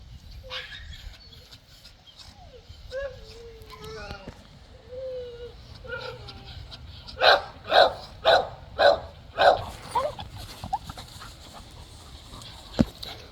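An American Bully on a yard dog run lets out a quick series of six or seven loud, evenly spaced barks in the second half, after softer whines and someone talking in the first part.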